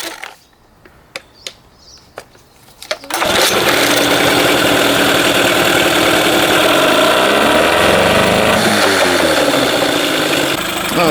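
An 8hp Mercury outboard engine pull-started: a few sharp cord-pull clicks and rattles, then the motor catches and runs loudly and steadily, its pitch wavering slightly as it settles.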